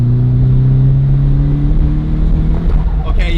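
A Nissan S15 running on racing gas pulls hard under load, its engine drone loud and close as the pitch climbs steadily, with a faint knocking burst near the end.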